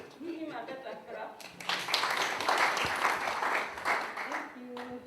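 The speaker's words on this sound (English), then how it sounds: "Give him a better clap" Audience applause at a government planning presentation room, breaking out after a spoken thank-you and swelling into broad, steady clapping for several seconds before tapering as a voice resumes.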